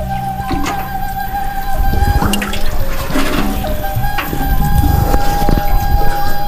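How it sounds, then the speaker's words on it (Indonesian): Water is poured onto an organic compost pile in loud, uneven splashes and gushes, over a steady tonal hum and some scattered knocks. "Kemudian siram lagi."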